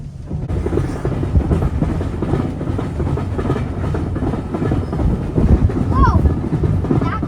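Steam train riding the rails, heard from inside a carriage as a loud continuous rumble with faint rhythmic clatter and a brief squeal near the end, without speech.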